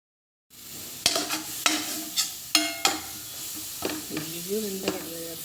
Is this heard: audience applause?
no